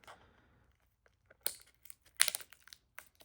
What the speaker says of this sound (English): You have to actually cut pretty much into the opening where where the item is in the package.